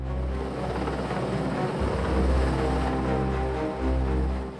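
An NH90 Caiman military helicopter, the largest helicopter in the French armed forces, runs with a loud continuous low rotor and turbine drone that throbs slightly and holds steady throughout.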